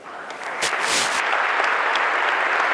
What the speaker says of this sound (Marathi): आपल्या सरळ टाळ्या सुरू होतात